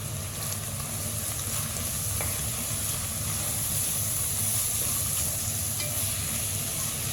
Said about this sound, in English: Let the masala fry for some time.